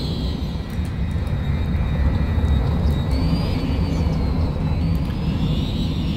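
A full airliner in the Cities Skylines city-building game gives a steady, fairly loud jet engine rumble with a faint rising whine. It holds for several seconds with no talk.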